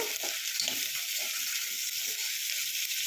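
Onions and eggplant frying together in a pan for vangibath, a steady, fairly quiet sizzle with a soft hiss that continues without a break and no one speaking.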